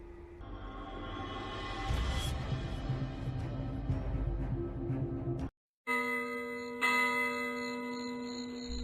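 Church bells ring out for the pre-dawn Misa de Gallo, pealing in repeated overlapping strokes at moderate distance, followed by a brief silence and a clearer, brighter bell tone ringing on.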